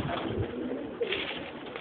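Turban pigeons coo in a loft of domestic flying pigeons kept alongside tipplers, a soft, steady cooing murmur running throughout with a slightly louder coo near the middle, fairly close.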